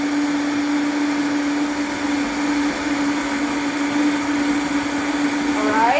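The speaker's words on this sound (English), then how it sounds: "You can blend pineapple and watermelon." A blender whirs loudly and continuously while blending pineapple and watermelon into juice, a steady high motor whine with a fixed hum that shifts in pitch near the end.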